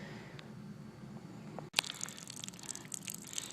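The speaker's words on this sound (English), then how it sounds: "I've got just a very little trickle of water coming out of the hose" A faint trickle of water from a hose runs onto a granite edge, with soft dripping and splashing that turns busier and more scattered after a brief break midway.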